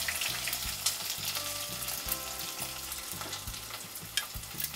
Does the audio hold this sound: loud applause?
no